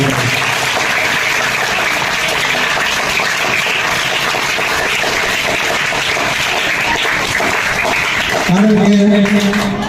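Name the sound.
applause at school welcome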